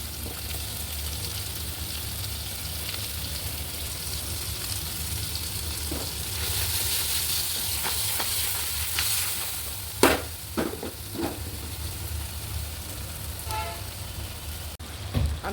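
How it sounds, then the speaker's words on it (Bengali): Onions sizzling in a non-stick pan with fried chewa fish, a steady, moderately loud hiss of frying with a few sharper crackles and clinks of stirring, no talk. "মাছগুলো আমার ভাজা হয়ে গেছে, এখন আমি পেঁয়াজ দিয়ে দিচ্ছি।"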